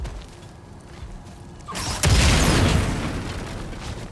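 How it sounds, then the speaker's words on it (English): A bomb in God of War Ragnarok detonates with a sudden loud boom after a quieter stretch of ambience, then a broad roaring rumble of debris lingers and slowly fades. "That bomb should help us out."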